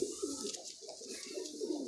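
Madrasi pigeons coo in a loft, soft throaty pulses repeating in slow waves, close by but fairly quiet, with no one speaking.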